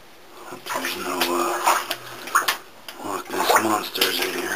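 Splashing and sloshing water as someone wades through a flooded passage in an abandoned mine, with irregular surges of movement, close and moderately loud, and heavy breathing in between.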